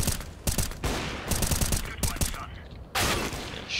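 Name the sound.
gunfire in the video game CSGO deathmatch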